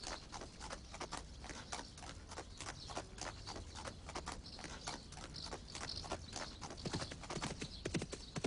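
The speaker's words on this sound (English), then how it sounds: "Okay, I like riding horses." Steady clip-clop of horse hooves trotting at a brisk, even rhythm, fairly close, with a constant background hiss and no talking.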